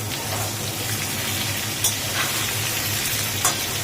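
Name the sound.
eggplant, pointed gourd and ridge gourd frying in pan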